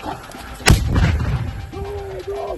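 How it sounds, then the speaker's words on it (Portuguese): A single sharp gunshot cracks out loudly during military training, followed by rumbling echo and a sustained tone, with faint background activity. "Toda essa movimentação, o barulho desses tiros"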